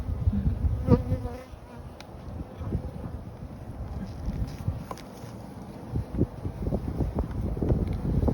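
Honeybees buzz and fly around an opened hive, a steady close swarm hum with individual bees zipping past the microphone, over light wind noise.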